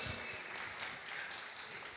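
Steady applause from a crowd, a continuous dense patter of clapping heard at moderate distance.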